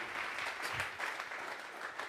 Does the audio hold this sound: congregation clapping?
yes